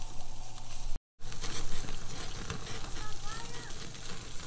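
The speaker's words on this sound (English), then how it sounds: "Sizzle, sizzle." Venison searing in a hot pan gives a steady, close crackling sizzle, with a brief dropout early and voices talking over it.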